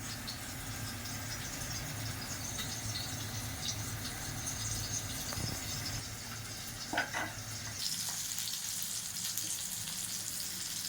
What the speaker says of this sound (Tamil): குழம்பு நல்லா கொதிக்குதுங்க, இன்னும் கொஞ்ச நேரம் கொதிக்கிட்டோம்.